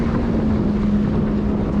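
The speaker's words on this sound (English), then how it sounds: "Yes, we all know your jet skis are fast." Jet skis speed past on open water from a fishing boat, giving a loud steady engine drone with a sustained hum, mixed with wind buffeting the microphone.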